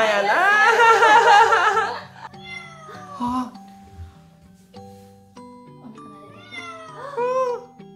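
A Siamese cat meows in two drawn-out bursts, one long and loud at the start and a shorter one near the end, with people talking indoors between the calls.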